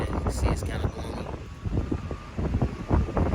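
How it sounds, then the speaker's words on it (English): Gusty wind buffets the microphone outdoors on a gloomy day, a loud rumbling roar that surges and drops in waves, with a faint engine-like hum underneath. "it's kind of windy out here"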